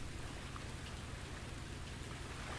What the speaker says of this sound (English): It's fine, we can have some rain noises.